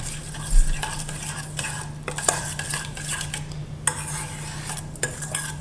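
Lemon juice being stirred into a tabbouleh salad in a bowl, with utensil clinks and scraping as a spoon works through the mixture; close, steady stirring with a few sharper taps, no talking.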